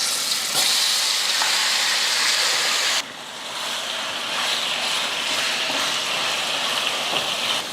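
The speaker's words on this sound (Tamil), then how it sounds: "எண்ணெய் காஞ்சதுமே கலந்து வச்ச சிக்கனை சேர்த்துடலாம்." Marinated chicken fries in hot oil in a kadai, a dense, steady, loud sizzle and crackle heard alone, with one brief dip partway through.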